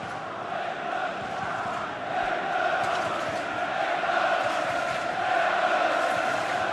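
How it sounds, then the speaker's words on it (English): A large Wembley Stadium crowd roars and chants in support of England during the 1996 Euro semi-final against Germany, a dense, sustained wall of voices that swells gradually. "Wembley crowd again trying to rouse England."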